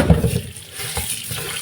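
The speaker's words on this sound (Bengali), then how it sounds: "চালটা ধুয়ে নিই।" Tap water runs into a pot while rice is washed in a home kitchen, a close, splashy gush with a brief louder slosh at the start and then steady flow.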